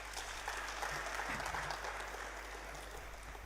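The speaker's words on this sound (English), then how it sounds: "I believe he deserves a round of applause" Audience applause at an academic conference, a steady, soft wash of clapping heard from a distance over a low hum, even in level throughout.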